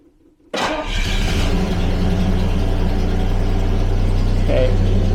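Vanden Plas Double Six engine cranks and catches after a short silence, then settles into a loud, rumbling idle through a loosely joined exhaust, steady and close.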